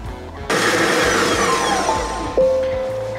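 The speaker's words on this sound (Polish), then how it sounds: "Rozdrabniamy 7 sekund, obroty prawe 5." A Monsieur Cuisine Smart food processor blitzes onion and garlic in short bursts, each starting with a sudden loud whir and then a whining spin-down, close by with no talk.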